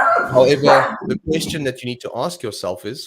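A pet dog yips and barks at close range, mixed in with a person speaking loudly over it.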